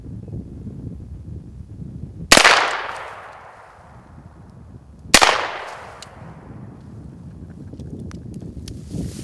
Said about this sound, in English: Just simultaneous, but I was able to get it on the second shot